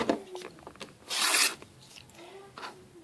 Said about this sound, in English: then you will cut corner to corner